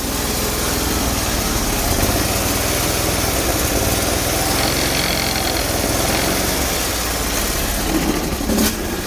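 A 20HP Bolens 1600H hydrostatic garden tractor engine running steadily in winter, a dense, continuous small-engine drone heard up close and loud with no speech over it.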